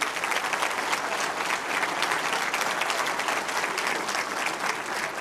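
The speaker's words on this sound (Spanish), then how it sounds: "Así que un aplauso a todos ellos." Steady congregation applause at a Sunday church service, a dense even wash of clapping that holds throughout.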